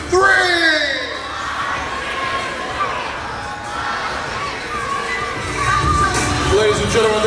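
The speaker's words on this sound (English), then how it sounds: "Our final cheer, what we start every practice with on the count of 3" A children's ice skating team shouts a cheer together, rising excited voices and whoops over crowd chatter in an ice rink, with a second burst of cheering near the end.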